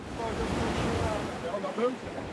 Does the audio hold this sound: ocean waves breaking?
yes